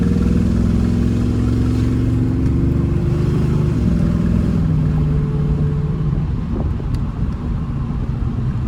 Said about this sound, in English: Gave it a little bit of gas for you there, just so you could see or hear the shift under some load.